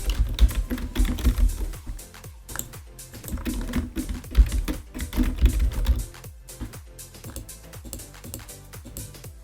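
Someone types on a computer keyboard while filling in a booking form, making rapid close clicking keystrokes in bursts with short pauses, no voices.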